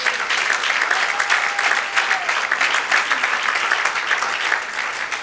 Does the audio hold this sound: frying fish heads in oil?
no